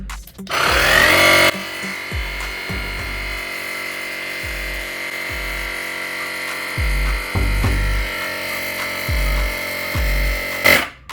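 A portable smart tire inflator pumping up a ball, a steady electric motor whine that starts loud with a sharp attack, then settles into a continuous buzzing drone with rhythmic low thumps of the pump, ending in a brief burst.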